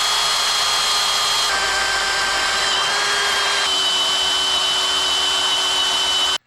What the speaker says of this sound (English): All it's left to do now is drill them.